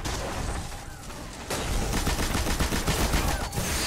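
Gunfire in the video game Destiny, including a sniper, as dense, rapid crackling shots that fill the whole stretch and grow louder and more intense after a short quieter opening.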